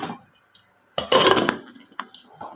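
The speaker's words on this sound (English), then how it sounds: "So and cover the pot." A pot lid clanks onto a cooking pot of unripe plantain porridge, one bright metallic clatter with a brief rattle after it, close and fairly loud, followed by a smaller clink.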